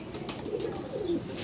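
Pigeons coo softly nearby, a few low, throaty warbling calls over a light background hiss.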